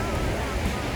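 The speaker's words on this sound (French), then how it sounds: "il y a du vent qui se lève un peu" Wind picks up on a beach on Stradbroke Island, a steady, loud rushing roar buffeting the microphone with surf-like wash underneath and no break.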